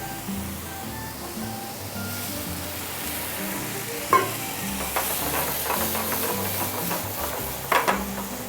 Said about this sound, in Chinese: 好，接下来我们用水来煨它。